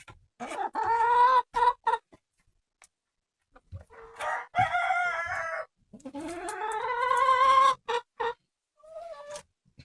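Hens in a coop cackle and squawk in loud, drawn-out bursts with short clucks between, separated by brief quiet gaps, close by.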